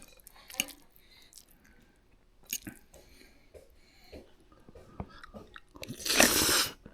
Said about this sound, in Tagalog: Masarap ng gulay, malutong kasi bagong pitas.